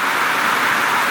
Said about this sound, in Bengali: বৃষ্টির আওয়াজ আপনারা শুনতে পাচ্ছেন।